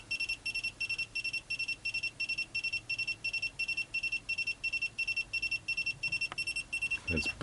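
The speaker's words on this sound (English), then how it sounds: "It's really beeping. I've just calibrated and it's beeping like nothing else." An SEC E9 key cutting machine beeping just after calibration, a rapid, insistent electronic alarm repeating in steady pulses throughout, with a faint clatter near the end.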